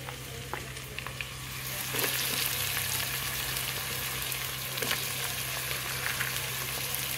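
Vegetable pieces for veg pulao sizzle and hiss in a hot pan; the frying swells louder after a couple of seconds and then holds steady, with faint stirring clicks.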